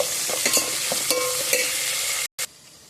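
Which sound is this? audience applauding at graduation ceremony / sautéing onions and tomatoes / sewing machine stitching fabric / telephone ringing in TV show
sautéing onions and tomatoes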